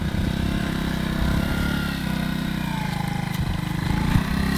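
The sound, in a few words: vehicle engine running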